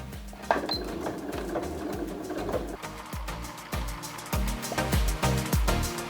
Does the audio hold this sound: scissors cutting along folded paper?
no